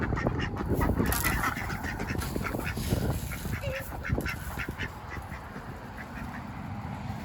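Ducks quack repeatedly in a noisy, busy chicken coop scene, several birds calling at once over a steady background rumble.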